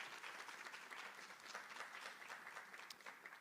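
An audience at a faculty of education teaching practice symposium applauds a presenter, with dense, even clapping that carries steadily at a moderate distance.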